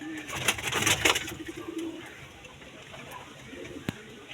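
Rock pigeons coo in a cage where a brood has just hatched: a burst of throaty cooing up front, then quieter, softer calls and a single sharp tap near the end.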